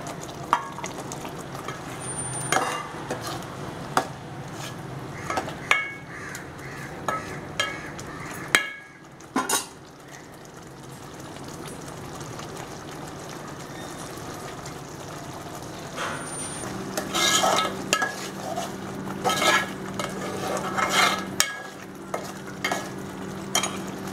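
Eggs added to a butter masala frying in a pan, with a steady low sizzle and intermittent close scraping stirs, a brief lull, then a busier stretch of spoon knocks and clatter toward the end, without talk.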